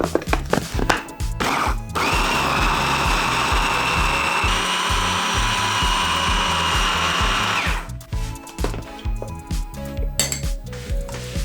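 A food processor blends seitan ingredients with miso paste, soy sauce, pepper and liquid smoke: a loud, steady motor whine for about six seconds, framed by knocks and clatter of handling before and after.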